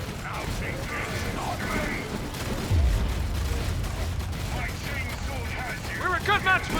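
Battle in Warhammer 40,000: Dawn of War III, with a steady barrage of gunfire and mechanical clatter from massed units, dense and continuous under game voices and effects.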